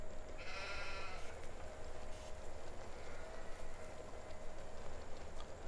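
A sheep in Farming Simulator 2017 gives one short bleat near the start, set against a constant low rumbling farm ambience that continues throughout.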